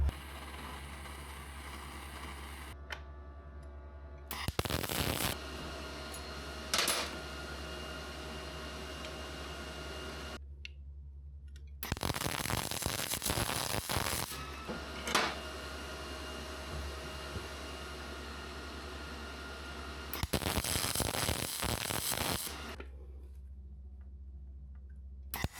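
Aluminum bar being welded onto rectangular tube over carpet in a small workshop, with several bursts of loud, steady hissing and crackling arc noise separated by quieter pauses under a constant low hum.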